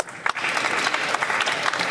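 Applause fills the House of Commons chamber, a dense, steady wash of many hands clapping at moderate loudness for two seconds without a break.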